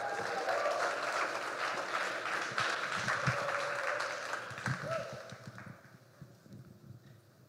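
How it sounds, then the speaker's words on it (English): A crowd applauds at a startup community event, with sustained clapping that fades toward the end, mixed with some background noise. "If we can give him a huge round of applause for."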